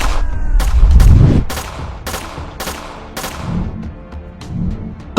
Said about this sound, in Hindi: फातिमा ब्लास्टिंग गन से फायर करने लगती है